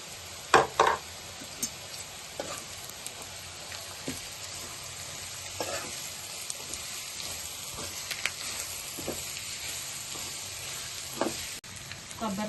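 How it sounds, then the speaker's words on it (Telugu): Ivy gourd pieces mixed with grated coconut fry in a pan, a soft steady sizzle broken by occasional sharp pops and spatula scrapes, fairly quiet and close. "కొబ్బరి తురుము వేసి ఇలా కలుపుకొని 2 నిమిషాల్లో ఫ్లేమ్లో పెట్టుకొని ఫ్రై అవ్వనిద్దాం"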